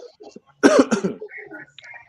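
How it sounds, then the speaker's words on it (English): A single sharp, throaty cough bursts out close to the mic amid quiet background sounds and faint murmuring. "I got a cough."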